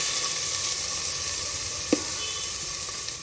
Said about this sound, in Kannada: ಈಗ 2 ಟೊಮೊಟೊ ಹಾಕ್ತಾ ಇದ್ದೀನಿ.